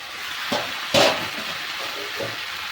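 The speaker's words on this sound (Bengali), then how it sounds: "সব সবজিগুলোকে ভালো করে কষিয়ে নিতে হবে।" Vegetables sautéing in a pan for a shish spinach dish, a steady close sizzle and fry with a couple of brief stirring scrapes rising above it.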